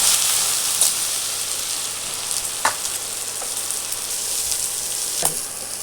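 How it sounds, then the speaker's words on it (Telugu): Tender tamarind leaves frying in hot groundnut oil, a steady close sizzle with a few sharp crackles and pops breaking through, with no talk. "ఆయిల్ వేడొచ్చింది ఇప్పుడు చిగురు ఆయిల్ వేసుకోవాలి"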